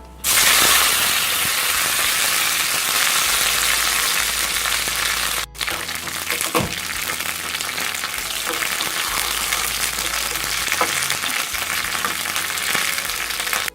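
Curry leaves sizzle loudly in hot oil after mustard seeds have popped, a dense steady crackle with a brief pause and occasional stirring clicks.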